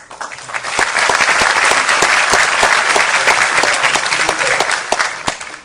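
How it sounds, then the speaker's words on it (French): Sustained audience applause at a conference on Mali, a dense wash of clapping that holds steady and loud for several seconds with no talk over it. "Vous savez quelle est ma relation avec les applaudissements."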